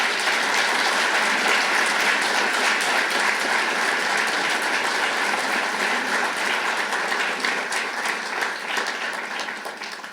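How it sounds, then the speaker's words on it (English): A forum audience at a business event claps in sustained, dense applause that fills the room and tapers off slightly at the end, with no speech over it. "How about a round of applause for all of them?"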